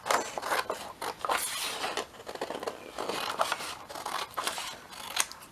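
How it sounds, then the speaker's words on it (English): Scissors snipping out small paper pockets for journaling cards, a run of crisp close cuts and rustles with short pauses between strokes, no talking. "Cut these little pockets out."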